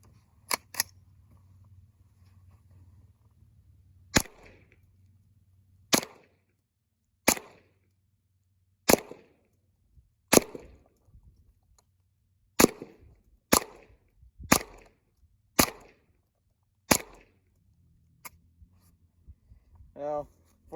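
A Ruger 10/22 semi-automatic rifle firing .22 Long Rifle rounds outdoors, about a dozen sharp, dry cracks spaced irregularly over twenty seconds, close and loud against quiet background hum.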